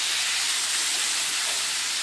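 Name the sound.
potatoes frying in oil with spices and salt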